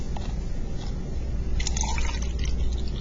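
Water runs into a cup as it is filled about halfway, a close, steady pour with splashy gurgling that rises slightly toward the end.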